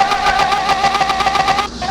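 A Porsche engine in Car Mechanic Simulator 2021 holds at redline, a steady, loud buzzing drone with a fast pulsing flutter that dips briefly near the end.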